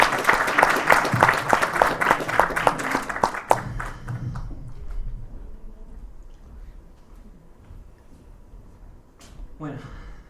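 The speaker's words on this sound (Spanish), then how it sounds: "Un aplauso, por favor, para el señor William." Audience at a book launch breaks into lively applause, a dense burst of claps lasting a few seconds before tapering off into quiet room murmur, with a voice starting to speak at the end.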